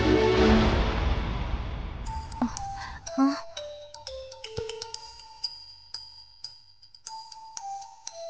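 A phone ringtone chimes with bright repeated melodic notes in a television drama scene, starting after a fading music swell and continuing at moderate loudness.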